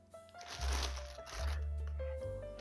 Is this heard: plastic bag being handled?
yes